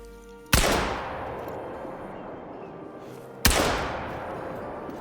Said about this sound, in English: I'd like to bag something with this shotgun.